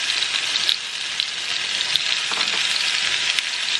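Shrimp flash-frying in olive oil in a skillet for shrimp scampi, giving a loud, even, close-up sizzle that continues without a break.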